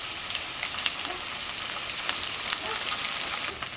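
Garlic, ginger and cumin pastes frying in hot oil for a koi fish malaikari, giving a continuous crackling sizzle with scattered pops, moderately close and without voices.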